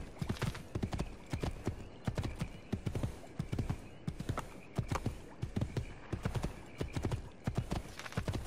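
Horse hooves clip-clopping at a steady gallop in Assassin's Creed 2, close and loud, with a brief neigh and faint background voices.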